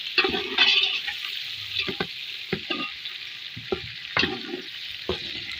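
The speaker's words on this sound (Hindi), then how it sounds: "इसको तकरीबन 2 मिनट और भूनेंगे इसको" Chicken and cauliflower sautéing in a pan, with a steady sizzle and frequent clinks and scrapes of a utensil stirring at an irregular rhythm, up close and without talk.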